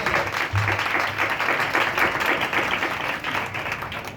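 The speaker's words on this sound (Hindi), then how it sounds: "आए जोरदार तालियां यीशु के लिए बजाते हैं जिसने हमें ये बोझ बख्शा।" A church congregation at a New Year prayer meeting claps for Jesus, giving steady, even applause that keeps going at a moderate level throughout.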